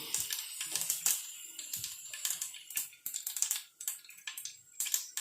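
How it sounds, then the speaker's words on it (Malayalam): Mustard seeds crackle and pop in hot oil in a home kitchen, with rapid irregular snaps and sizzles heard close by, fairly faint and without talk. "കടുക് പൊട്ടിക്കൊണ്ടിരിക്കുന്നു"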